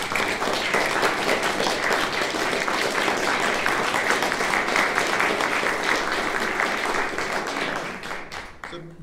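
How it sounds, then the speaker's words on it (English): Lecture audience applauding after a talk on medieval Scottish music and liturgy, a dense steady wash of many hands clapping that holds for about eight seconds before thinning out at the end. "I think another round of applause just for you."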